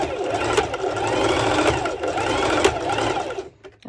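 A serger sewing machine stitches small bikini straps in a steady, fast mechanical whir that runs almost unbroken and then stops at the end.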